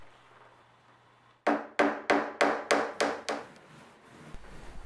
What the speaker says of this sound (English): To conceal the LEDs, I'm using thin slats of wood, which will be glued and nailed along the edges of the box.